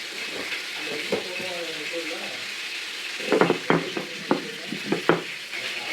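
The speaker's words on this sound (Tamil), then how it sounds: "இது வந்து நல்லா இரும்பு கடாயாக இருக்கு பாருங்கள் மீன் வறுக்கிறதுக்கு" Fish sizzles in an iron kadai, a steady frying hiss running throughout, with a few spatula scrapes and knocks near the end and voices talking softly over it.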